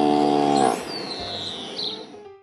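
A cow on grass pasture lets out one long, loud, nearby moo that fades out, with a faint bird chirp in the quiet that follows.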